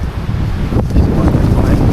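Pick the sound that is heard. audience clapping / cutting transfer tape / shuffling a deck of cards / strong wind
strong wind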